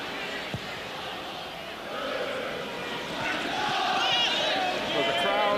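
Restless football crowd at Villa Park during an Aston Villa versus Manchester City Premier League match, a steady roar of murmuring voices that swells gradually, with scattered shouts and whistles rising from the stands.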